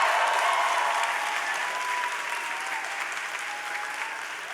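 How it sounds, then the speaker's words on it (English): Audience at a LaGuardia college event in Queens applauding, a dense, sustained round of clapping that slowly tapers off, with no voices over it. "Let's give them a big round of applause."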